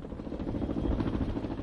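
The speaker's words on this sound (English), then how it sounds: "Do you see the helicopter hovered?" A helicopter hovers during an outdoor military demonstration in rain and wind, giving a steady, dense low rumble that stays loud and even throughout.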